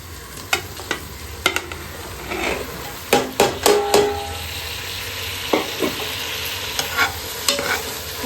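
Masala being stirred in a pan for veg biryani: a soft frying sizzle under repeated sharp scrapes and knocks of a spoon against the pan, coming in irregular clusters, close and fairly loud.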